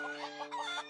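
Cartoon chickens from a French-dubbed My Little Pony episode give a quick run of soft, rhythmic clucks over a steady background hum, close and fairly quiet.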